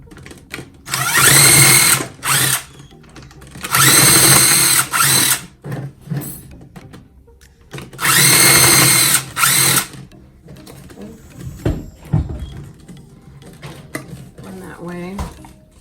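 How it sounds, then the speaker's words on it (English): A power drill bores three holes through the bottom of a plastic cup for seed starting, three loud whirring bursts of about two seconds each separated by quieter handling clatter and rustling. "I'm gonna drill 3 holes in the bottom of this."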